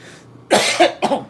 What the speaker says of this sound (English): Sorry about my coughing, guys.